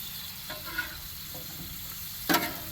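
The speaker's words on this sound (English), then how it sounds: "Let that sear up a little." Food sears on a hot Blackstone flat-top griddle with a steady low sizzle, a couple of light spatula scrapes, and a sharp flare of crackling toward the end.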